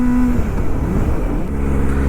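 A Kawasaki ZX25R motorcycle with an aftermarket exhaust pipe rumbles loudly and steadily up close, a dense continuous engine roar with no talk.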